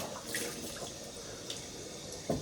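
Hot water running from a tap into a sink, a faint steady trickle with small splashes and drips, close by and quiet.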